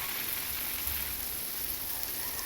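A steady, close hiss of water sprays over lettuce beds in a school vegetable garden, a continuous even patter with no talk.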